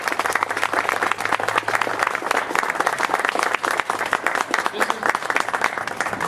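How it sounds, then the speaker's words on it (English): Audience applause at an outdoor Boots on the Square memorial ceremony, a steady dense clapping that fills the whole stretch at even loudness, with murmured voices underneath. "Would you please give them all a big round of applause?"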